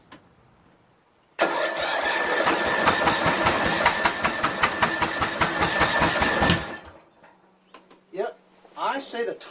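Craftsman lawn tractor engine cranking hard for about five seconds with a fast rhythmic chugging that never catches, then stopping abruptly; faint clicks and a short burst of talk follow.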